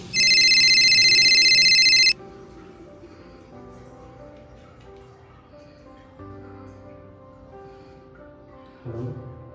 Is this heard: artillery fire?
no